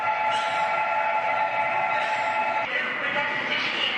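A subway train runs steadily, a loud continuous rumble with a sustained whine throughout, the tone shifting slightly partway through.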